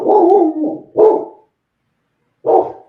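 A pet dog barks indoors in three loud, close bursts: two quick barks close together, then a pause and one more.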